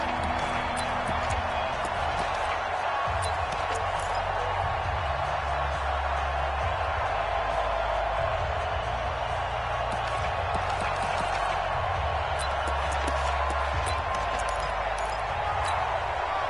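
Steady roar of a stadium crowd in an American football video game, a broad constant wash of noise that holds through the whole stretch beneath play-by-play commentary.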